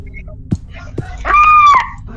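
A short high-pitched scream rises and falls in the Housebound horror game, a thin distant wail with a couple of soft thumps nearby before it.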